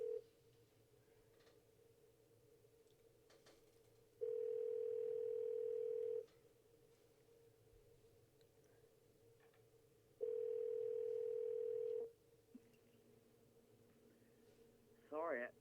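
A telephone call placed from a studio talk show: a steady line tone hums throughout, broken by two louder ringback bursts, each about two seconds long, with no voices over it.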